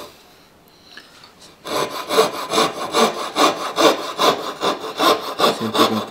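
A hand saw cuts wood for a hand-made dovetail joint, with steady rhythmic back-and-forth rasping strokes, close and loud, starting after a quiet second and a half.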